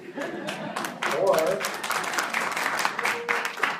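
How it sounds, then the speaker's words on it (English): Audience at a Langley, Washington town hall clapping, a dense patter of many hands at moderate distance that swells after the first second and holds steady, with voices mixed into the applause. "they applauded when I said we should keep the EPA"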